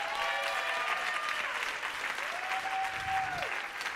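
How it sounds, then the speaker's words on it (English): An audience at a women's leadership celebration at a conference gives sustained, dense applause, loud and steady for the whole span, with a faint whistle-like tone over it. "Y'all clap it up for my folks over here."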